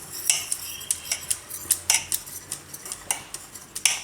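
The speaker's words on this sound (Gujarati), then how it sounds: "આમાં આપણે સૂજી નાખી દઉં અને બેને મિક્સ કરી લઉં" Ragi flour and semolina are mixed in a bowl with a spoon, producing a steady series of light metallic clinks and scrapes against the bowl, roughly a few per second, close and clear with no talking.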